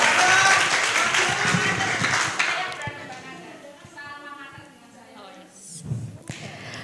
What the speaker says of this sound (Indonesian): Tepuk tangan yang meriah untuk calon presiden.